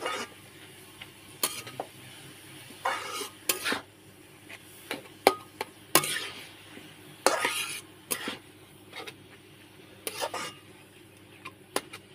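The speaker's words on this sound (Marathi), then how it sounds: "असे पलटते मी, मस्त असे पलटून घेते." Carrot halwa being flipped and stirred in a pan, with scattered scraping and clinking knocks of a spoon against metal over a low, quiet background, fairly close and with no one talking.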